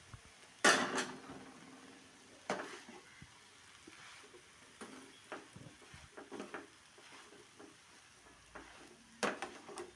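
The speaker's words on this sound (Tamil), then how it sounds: "இது ஒரு 5-10 நிமிஷம் மாதிரி இப்படி மிக்ஸ் பண்ணியிருந்தால் கொத்து ரொட்டி ரெடி" Kothu roti stir-fried and mixed in a pan over low flame, with a soft continuous sizzle broken by scattered scraping and clanking of the utensil against the pan, one sharper clatter near the start.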